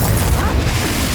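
A Confringo explosive spell is cast in Hogwarts Legacy, a single loud, low boom with a crashing rumble that fills the short moment up close.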